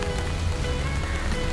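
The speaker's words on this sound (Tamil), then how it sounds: "இந்த மழையில்" Rain drums steadily on a tent during a rainy outdoor outing, a dense, even patter of drops close overhead.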